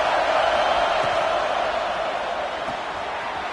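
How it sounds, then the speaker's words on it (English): A stadium crowd cheering at a Cyclones football game during a red-zone third down, a loud, continuous roar that fades slightly toward the end. "this crowd is at fever pitch"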